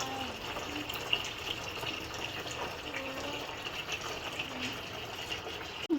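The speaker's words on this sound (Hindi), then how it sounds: "टब में पानी भर रहा है" A tap runs water into a tub in an open courtyard, giving a steady, fairly quiet rushing flow that continues evenly throughout, with a faint knock near the end.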